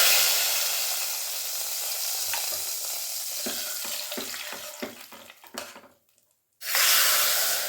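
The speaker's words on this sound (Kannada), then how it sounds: "ಈಗ ಒಗ್ಗರಣೆ ಹಾಕ್ಬಿಡೋಣ ಸಾರಲ್ಲಿ." Hot mustard-seed tempering poured into a simmering vegetable saaru: a loud, close, broad sizzle, then a run of sharp spitting bursts and a brief hush before a final fierce hiss erupts.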